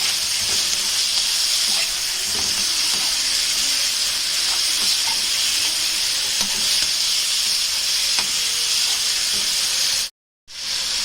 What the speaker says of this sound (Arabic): وبديهم برضه تشويحه مع الخضار